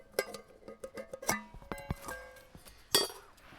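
Light metallic clinks and taps from a small metal pot in a Kelly Kettle Trekker cook set, which includes a lid that doubles as a frying pan, a tiny grill and a pot grabber. The clinks are irregular, close and fairly quiet.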